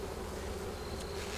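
Honey bees in a queenless hive buzzing loudly, a dense, constant droning roar close up that holds steady throughout, with no speech.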